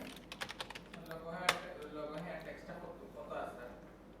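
Computer keyboard keys are tapped quickly in a short burst while heading text for a flyer is typed in Adobe Illustrator, then the clicks thin out as a voice talks over them.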